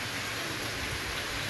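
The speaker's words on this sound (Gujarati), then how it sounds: "વરસાદ ચાલુ છે એક જ ધારો" Steady, unbroken rain pours down on a village farm during a day of heavy monsoon rain, a dense even hiss with no gaps and no voices.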